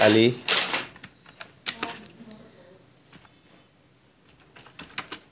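Quick clicks of a computer keyboard being typed on in InPage software, nearby and fairly quiet, come in irregular bursts and thin out toward the end, with no voices.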